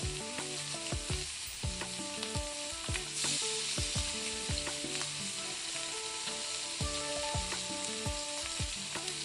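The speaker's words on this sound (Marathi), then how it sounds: "तेल कमी आहे मधल्या जागेवर मधल्या जागेवर तळायला टाकूया" Fish frying in shallow oil in a pan sizzles steadily and close, with repeated sharp taps and scrapes of a utensil against the pan across the whole stretch and no talking.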